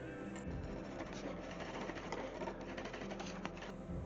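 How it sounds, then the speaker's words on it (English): Whisking meringue into a cream cheese mixture for a cheese soufflé, a steady, rapid clicking and scraping of a whisk against a bowl, close and continuous with no talk. "And I am going to whisk those together."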